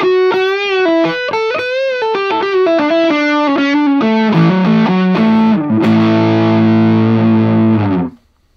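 An electric guitar through an Xotic SL Drive overdrive pedal, playing a string of bright single notes that moves into sustained, saturated chords with soft-clipped grit, close and loud, then cutting off abruptly at the end.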